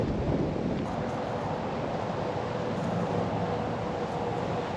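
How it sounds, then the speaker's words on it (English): Strong wind roars continuously across an open frozen lake during ice fishing, a dense broadband rush with no letup and no voices. "new hole, new spot, super windy, probably can't even hear me."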